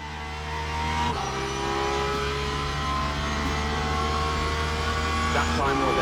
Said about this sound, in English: I will shut up for a second now so you can enjoy the sounds of the Porsche.